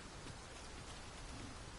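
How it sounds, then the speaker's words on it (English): Steady rain falling in the Dragon's Dogma 2 video game, a dense, even hiss of drops on surfaces that holds unchanged throughout with no voices. "Mind the rain, Master."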